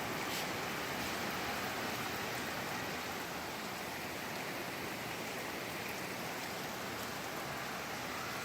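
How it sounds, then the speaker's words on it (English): Heavy rain pouring down in Ghana, a steady, dense hiss of falling water that stays constant throughout, with no voices. "But I love to sit in my chair and watch the rain come down."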